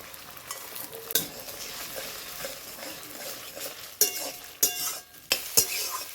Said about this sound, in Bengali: ডিমগুলোকে আমি ভালো করে ঝুড়ি করে নেব। আমার এখানে ডিমটা ভালোভাবে ভেজে নেওয়া হয়ে গেছে।